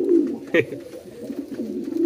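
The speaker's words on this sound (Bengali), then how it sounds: "কি ডাক মারতেছে দেখেন বোম্বাই কবুতরটা" A Bombay pigeon coos close by in a steady low throaty call, with a brief brighter burst partway through and faint voices in the background.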